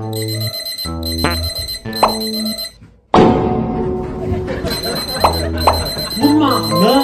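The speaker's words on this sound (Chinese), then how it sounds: "扫码闹钟，这个闹钟原理就是找一个条码扫" A barcode-scanning alarm clock rings with bright electronic melodic beeps in short repeated bursts for about three seconds, followed by a louder, denser jumble of sound.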